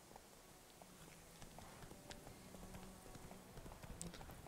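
A horse trots across ground in The Witcher 3 video game, its hooves sounding as a quiet, steady clip-clop under faint ambient game sound, fairly distant and soft throughout.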